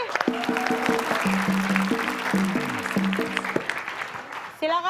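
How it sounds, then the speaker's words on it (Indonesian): A studio audience on a televised riddle quiz show applauds under a run of bright, stepped musical sound-effect tones. The clapping stays moderate and continuous for several seconds, then the stings stop and a new tone rises at the end. "Oke, tepuk tangan sekali lagi."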